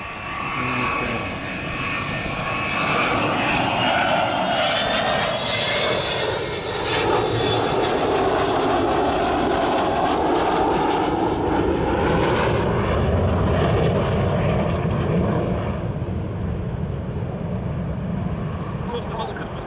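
An Avro Vulcan jet bomber passes overhead with a loud, sustained roar that swells and holds, its pitch sweeping as it goes by, while people talk excitedly beneath it.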